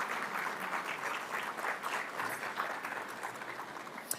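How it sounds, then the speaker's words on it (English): Audience applause fills a room at a North Carolina community colleges awards dinner, steady dense clapping throughout at moderate level with no talk over it. "Yes, round of applause as well."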